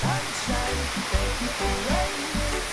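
Waterfall at a river falls in San Isidro, a loud steady roaring rush of water that fills the whole short stretch, close by and continuous with no voices.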